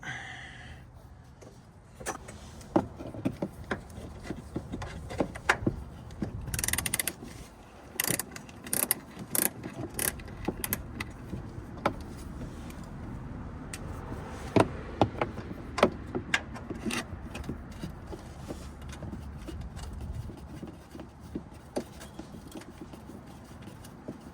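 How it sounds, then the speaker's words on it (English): A thin socket ratchets the last fender bolt off a 2007-2018 Jeep JK, with bursts of rapid clicking from the ratchet and clinking metal handling heard close up over about twenty seconds. "there's one bolt right here. It does take a pretty thin tin socket."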